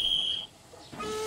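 A railway guard's whistle in a Thomas the Tank Engine story, a short shrill steady tone at the start, followed by a quieter sustained pitch near the end.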